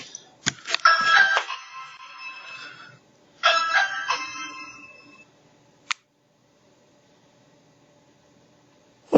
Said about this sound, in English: What is you ringing my doorbell for?